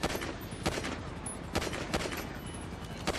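Bursts of gunfire from a helicopter-mounted gun in Grand Theft Auto V, three or four sharp volleys spaced about a second apart over a steady background roar of rotor and engine.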